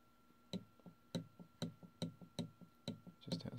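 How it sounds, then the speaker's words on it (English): Small plastic armature inside a Waterpik water flosser rattling up and down, a steady series of sharp knocking clicks at a quick, even rhythm, close and fairly quiet. "So the rattling noise is just this armature here."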